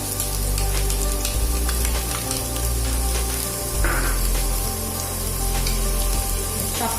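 Chopped onion dropped into hot oil in a pan for a stir-fried chicken dish: a loud, steady crackling sizzle that runs without a break, with a brief burst of added spitting partway through.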